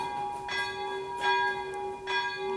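Church bell ringing at midday, with steady sustained bell tones and several strokes swelling at regular intervals, fairly loud and alone without talk.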